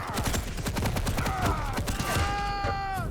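Rockets fire and explode in rapid bursts during a fast first-person-shooter duel, a dense series of sharp booms and thuds with no pause between them, mixed with whooshing tones and other game effects.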